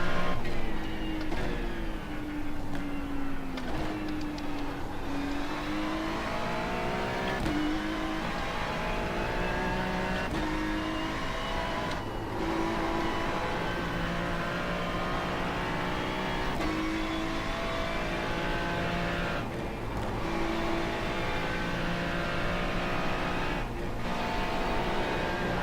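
Porsche race car engine in the iRacing sim, a steady loud drone with rising and falling pitch through gear changes across the whole stretch, no talk over it.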